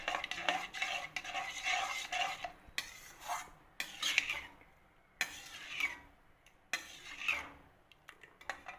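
A spoon scraping and clinking in a pan as kesari is stirred with colour and cardamom, quiet bursts of stirring separated by short pauses, close and without any talk.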